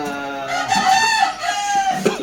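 A White Kelso gamefowl rooster crows once, close and clear, with a long wavering cock-a-doodle-doo. Someone talks quietly in the background.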